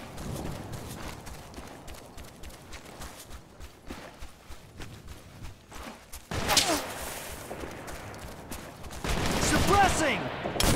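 Gunfire in the war shooter Operation Flashpoint: Red River: scattered shots over a shuffling, clattering background, then two louder, denser bursts of firing near the end.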